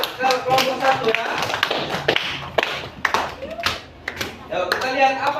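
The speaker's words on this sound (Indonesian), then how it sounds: "Tepuk tangan dulu semua untuk kelompok 1 ya." A classroom claps for a student group about to present a craft project. The clapping is loud and uneven, with sharp claps, taps and some thumps and shuffling, and voices chatter through it.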